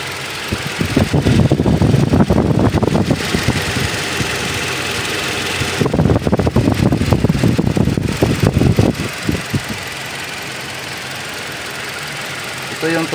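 Toyota Hilux 2TR engine running after an overhaul, a rough rhythmic idle with knocking pulses that rise in two loud spells and fade between, close and loud, with someone speaking over it.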